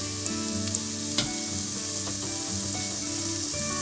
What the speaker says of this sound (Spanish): Ahorita yo las voy a echar aquí junto con la cebolla.